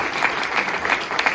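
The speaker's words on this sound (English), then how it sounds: "Could we give a round of applause to Horace Alexander?" A short burst of audience applause at a jazz improvisation clinic, many people clapping together in a dense, fairly loud spatter that continues steadily with no voices over it.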